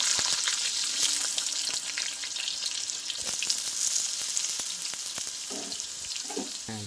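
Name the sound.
potatoes frying in oil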